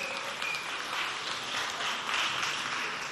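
Steady applause from an audience at a televised special for the 63rd anniversary of the Republic of Chad, broadband and continuous for about three seconds, with no voices over it.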